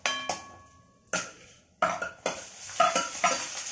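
Onion and green chillies hit a hot pan, producing bursts of sizzling with stirring scrapes in several short surges, close and fairly loud, with no talking.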